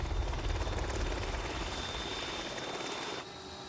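A rescue helicopter lifts back into the air over Arctic ice, its rotor thumping in a steady rhythmic beat with a thin whine above, fairly faint and distant and easing slightly near the end.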